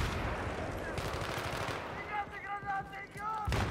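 Video game gunfire from a competitive 4v4 shooter match rattles in dense rapid bursts, loud and continuous, with a beacon-like tonal beeping and faint voices in the background.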